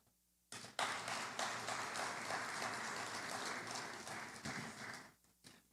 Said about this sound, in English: I ask you all please to applaud yourself